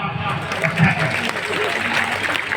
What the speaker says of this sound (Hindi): एक एक के कान में आके बोलो तो ताली बजाओ